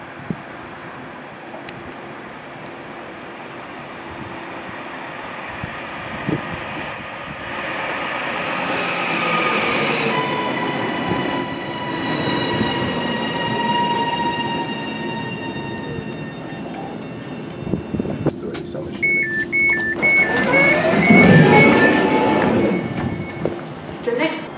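A train passes Bentley station, its rumble swelling over many seconds and peaking near the end, while someone talks on and off above it.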